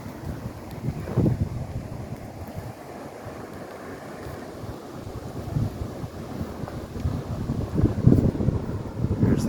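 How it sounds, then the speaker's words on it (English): Continuous rushing water roars steadily throughout as it flows through Lock and Dam 20 on the Mississippi River, a broad, even wash of sound with gusty wind buffeting the microphone. "Letting a lot of water through."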